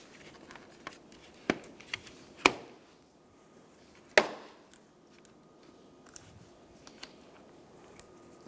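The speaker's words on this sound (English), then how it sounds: "we're going to click all of these tabs in" A few sharp plastic clicks and snaps as the tabs of a 2014-2019 Toyota Highlander front bumper cover click into place, spaced irregularly, with faint handling rustle between them.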